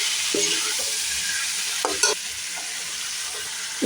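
Dried peas go into a potato curry frying in a pan, bringing a continuous bright sizzle with a few rattling clatters as they drop in and get stirred.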